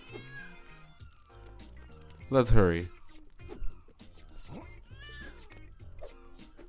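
Cat meowing in the Lego City Undercover video game, one loud drawn-out meow in the middle and fainter mews around it, mixed with game music and a character voice talking.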